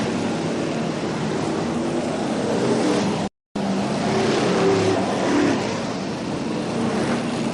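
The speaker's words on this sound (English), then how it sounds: "These really big, powerful engines in these motors, absolutely rocking the commentator's box." Formula One stock car engines roar past in a loud, dense rush at a 1977 stadium oval race at Foxhall Heath, Ipswich, with a brief gap in the middle before the heavy, droning blare resumes.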